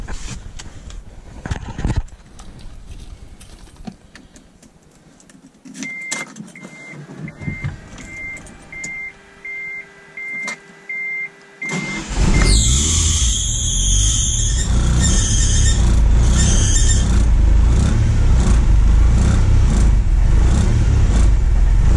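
A Mitsubishi Galant VR-4 engine with a newly refitted downpipe cranks with electronic chimes, then catches and settles into a loud, close, rumbling idle with a few rising revs and some squeal.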